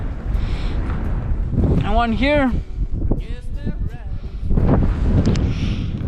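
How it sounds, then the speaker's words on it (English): Strong wind roars and buffets the microphone between two glaciers in Iceland, loud and continuous under a voice that talks through it. "And it's really windy now."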